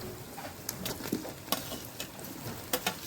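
Chopped tomato and chili sizzle with browned onion in a pan over a wood-fired chulha stove, a steady soft crackle broken by light stirring clinks.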